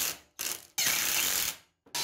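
A power driver drives screws through pre-drilled holes to fix cut ironwork onto a wooden bench made from an old bed. Two close whirring, ratcheting bursts, the second longer, are separated by short pauses.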